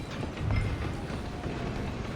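A train in the Red Dead Redemption 2 video game runs along steadily, a loud continuous low rumble with rolling rail clatter throughout.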